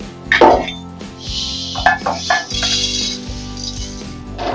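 Fried puffed rice (muri) tipped into a bowl from a hot pan, with crisp rattling and clinking of the grains and metal, a few sharper knocks among a steady close pour.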